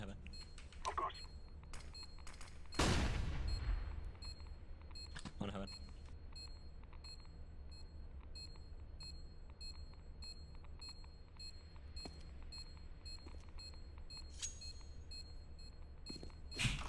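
A flashbang grenade goes off in a video game match: a single loud, sharp burst that decays over about a second, then a thin high ringing tone holding steady, with faint game sounds and voices around it.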